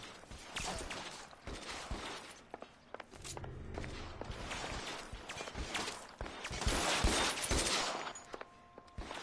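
Pistol gunshots fired in the 1940s Los Angeles crime game L.A. Noire, several sharp cracks scattered through a busy chase with footsteps and background game noise.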